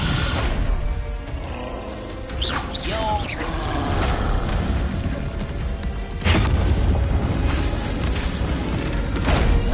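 A Descendo spell is cast in the Hogwarts Legacy video game, with deep booming slams and crashing impacts over a dense, continuous bed of game effects and mechanical rumble.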